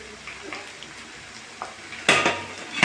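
An idli pot is set on a stove and its lid is closed: soft clinks come first, then a sharp metallic clatter near the end, with a faint hiss in the background.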